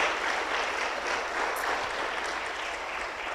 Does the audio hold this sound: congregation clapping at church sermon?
yes